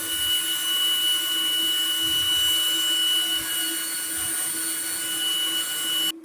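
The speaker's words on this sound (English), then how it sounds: "It's not too powerful because this is only an RS360 DC motor." A homemade electric ducted fan driven by a small RS360 DC motor runs at speed, a loud steady high-pitched whine with a constant tonal hum, heard alone without speech.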